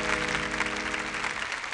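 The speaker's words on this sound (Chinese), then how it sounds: "我们起立再次把掌声送给张老师" An audience applauds a guest lecturer at a public archaeology talk, a dense, steady wash of clapping with a low musical hum underneath, lasting under two seconds.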